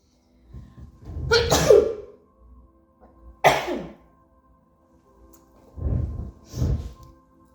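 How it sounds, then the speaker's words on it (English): A single loud sneeze up close, followed by a couple of sharp breathy exhalations and softer sniffs. "I'm going to sneeze."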